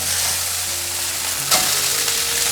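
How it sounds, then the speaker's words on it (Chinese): Dried tofu stir-fried in a wok, a loud steady sizzle with a brief scraping toss near the middle, close and continuous with no talking. "现在放入豆干， 快速翻炒。"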